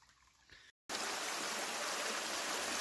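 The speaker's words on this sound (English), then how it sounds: "we got an impassable waterfall up there just because of how slippery the rocks are" After a brief quiet moment with a cut, a steady close rush of water spills over slippery rocks, a dense hiss of a small waterfall with no voices.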